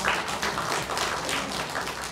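A church congregation applauds together to welcome a returning member during a family worship service, with dense, steady clapping filling the room from start to finish.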